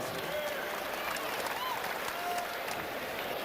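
A basketball crowd in Fort Wayne at a 1987 Team USA versus NBA stars exhibition game applauding team introductions, steady distant clapping and crowd noise, with faint whistling and a commentator talking over it.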